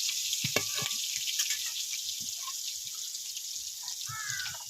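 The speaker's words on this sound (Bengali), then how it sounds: "এবার পেঁয়াজটাকে ভালো করে লাল লাল করে ভেজে নেব।" Chopped onions fry in oil in a pan for a village-style black chicken curry, giving a steady, close sizzle with a few soft clinks and stirring scrapes over it.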